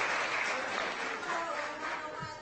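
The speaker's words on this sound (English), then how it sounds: "Give it another round of applause" Another round of applause at an upper-campus graduation after the seniors' speeches, a thick, continuous crowd clapping that stays full throughout and eases slightly near the end.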